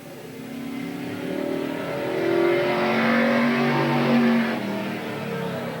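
A 1987 Chevrolet Camaro race car with a 350 V8 runs a qualifying lap at Willamette Speedway, its engine droning steadily and swelling louder as it passes near before fading slightly, with no talk over it.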